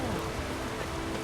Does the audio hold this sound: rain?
yes